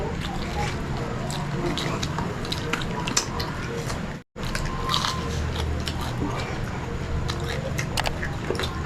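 Crunchy bites into crispy fried pork mask skin, a dense run of crackling chews heard close up with a brief pause midway, along with some clinking from dishes and cutlery.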